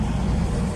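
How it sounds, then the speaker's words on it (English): Road traffic noise heard from inside a car through an open window, a brief, loud, broadband rumble of passing vehicles with strong low-frequency engine drone. "Traffic's kind of loud out there."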